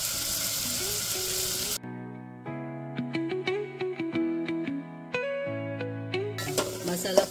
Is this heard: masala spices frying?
yes